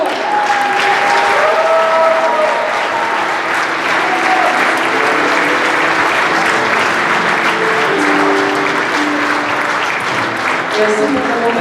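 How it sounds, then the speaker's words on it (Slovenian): Loud, sustained applause from a large crowd at a charity concert, with voices calling out amid the clapping. "Pozdravimo jo z glasnim aplavzom."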